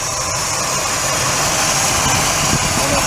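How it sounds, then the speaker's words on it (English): A 1975 Oldsmobile Vista Cruiser engine with 270,000 miles idles roughly up close, a continuous low rumble with a slightly uneven, chugging texture throughout. "look how rough she's idling."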